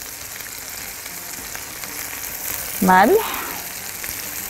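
Kofta sizzles steadily in a hot pan with tomato, a constant frying hiss throughout, while a voice speaks briefly over it midway.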